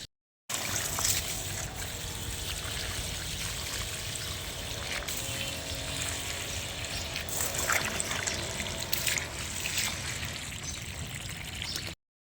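Water streams and trickles steadily from a garden hose, a continuous splashing flow with faint outdoor ambience and no speech.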